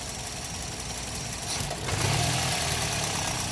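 A 2000 Toyota Corolla engine revving up under acceleration, the steady rumble dipping and wavering midway as though about to stall, then recovering; close and continuous with no talk.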